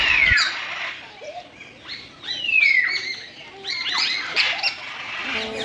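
Macaws and assorted other birds call at a picnic-spot aviary with a deer park, giving loud shrill squawks and sweeping whistles that overlap in a busy, close chorus with no talk.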